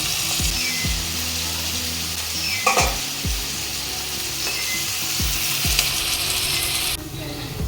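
Onions fry in hot oil with a pinch of salt for mutton curry, a continuous close sizzle punctuated by several scraping stirs and clanks of a utensil against the pan.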